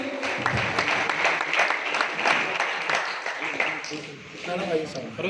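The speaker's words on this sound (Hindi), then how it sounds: "तो मैं एक बार जोरदार तालियां" An audience at an honoring ceremony for families of martyred soldiers, held at the Maulana Azad Research Centre in Aurangabad, applauds steadily, with a voice and some chatter mixed in as the clapping thins toward the end.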